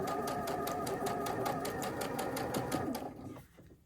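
A sewing machine runs steadily, stitching fabric for a quilt block, its rapid even needle clatter loud and close for about three seconds before it slows and stops.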